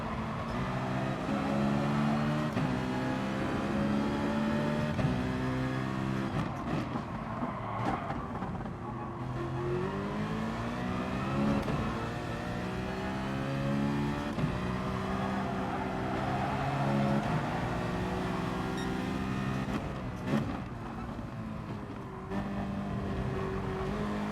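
Race car engines in Gran Turismo Sport, several cars droning and shifting through gears with rising and falling engine pitch, continuous and fairly loud, with brief dips as the cars brake.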